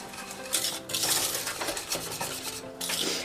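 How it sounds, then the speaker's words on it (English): A whisk scrapes and clinks rapidly against a metal pot while stirring a lemon butter mixture, a close, continuous metallic rubbing with uneven bursts. "I'm gonna whisk this and bring it to medium heat."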